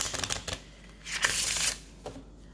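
Tarot cards being shuffled up close: a series of quick riffling flutters and soft slaps, with a longer continuous riffle in the middle.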